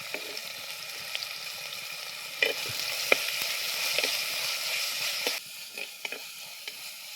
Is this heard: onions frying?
yes